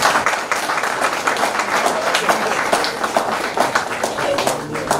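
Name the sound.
audience applause at an anniversary party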